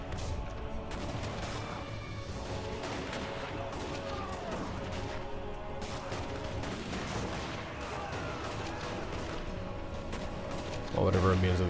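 Massed handgunner volleys from dwarf gun lines in a Total War: Warhammer battle, a dense continuous crackle of distant gunfire and booms layered under the roar of a large battle, with talk over it throughout.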